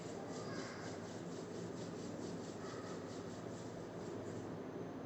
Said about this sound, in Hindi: Rub your hands.